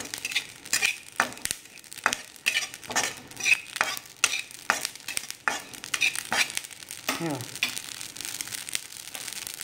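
Carom seeds (ajwain) dry roasting in a kadhai, with steady crackling sizzle and repeated scraping stirs of a spoon against the pan, close and continuous without talk.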